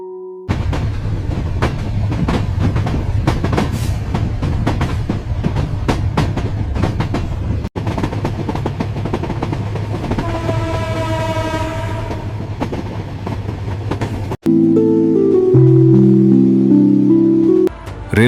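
A train runs through a railway station with steady rumbling and rhythmic clickety-clack of wheels on rails, a rising horn tone partway through, then a louder passage of sustained horn or whistle blasts, with no voices.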